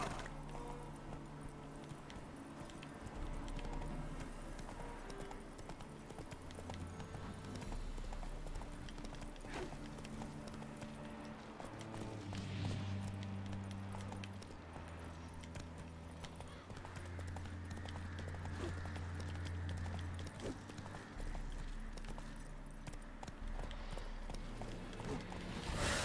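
A horse's hooves clip-clop in The Witcher 3, a steady trotting rhythm over a low game soundscape with occasional tonal music swells, moderately quiet and continuous.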